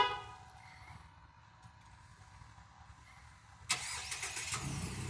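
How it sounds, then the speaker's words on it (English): A 2018 Mazda CX-5 started by remote starter: quiet idle mechanisms and faint clicks, then the engine cranks and catches with a sharp burst, settling into a steady running rumble up close. "Today we installed a remote starter into a 2018 Mazda CX5."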